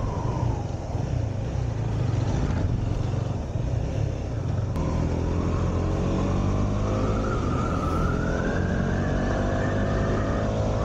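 A loud KTM Duke 390 motorcycle engine holds a steady drone in fourth gear and then rises in pitch as it accelerates, heard up close with no talking.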